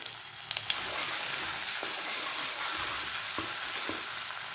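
Ginger garlic paste sizzles and fries in hot oil in a pan, a steady crackling hiss with a few soft clinks of stirring, close and alone.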